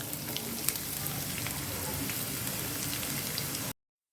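Steady crackling sizzle of chopped onions frying in hot oil for a chicken liver fry, a dense, even hiss with small pops throughout, close by and fairly loud, with no talking.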